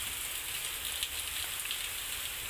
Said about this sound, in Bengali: বৃষ্টি শুরু হয়ে গেছে, খুব বৃষ্টি হচ্ছে না,